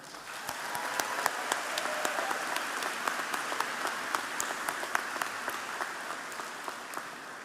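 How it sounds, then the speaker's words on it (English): A big round of applause from the audience at a 2023 undergraduate commencement, sustained clapping from a large crowd that stays even and moderately distant throughout, with scattered sharper claps. "I ask that we give a big round of applause to the Coffee House Brass"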